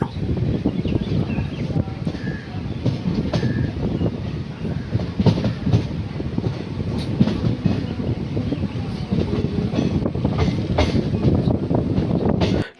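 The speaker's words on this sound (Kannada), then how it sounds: "ಟ್ರೈನ್ ಹೋಯ್ತಿದ್ದು ಸ್ಪೀಡಿಗೆ ಗಾಳಿ ಬಡ್ತಕ್ಕೇ ಫೋನು ಉಣ್ಕೊಬಿಡ್ತಿತ್ತು" A moving train rumbles steadily throughout, with strong wind noise buffeting close by and faint clicking of the wheels on the rails on the way to Bengaluru.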